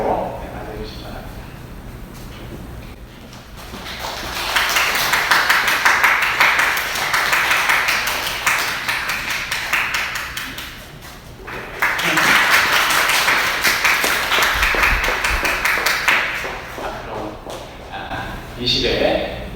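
A church congregation claps during a Sunday worship service as a scholarship offering is handed over, in two long swells of applause separated by a brief lull, with voices speaking alongside.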